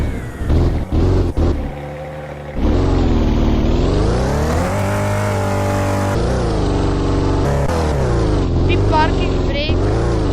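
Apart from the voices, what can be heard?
car engine driving in Roblox video game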